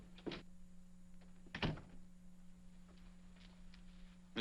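An office door opens in a 1950 film, heard as faint, soft thunks and a latch click or two under a steady low hum, with no voices.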